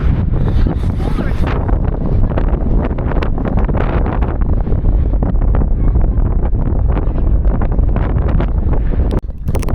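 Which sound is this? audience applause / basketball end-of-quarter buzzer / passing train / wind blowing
wind blowing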